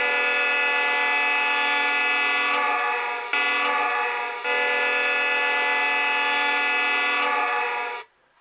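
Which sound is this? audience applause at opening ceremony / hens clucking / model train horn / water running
model train horn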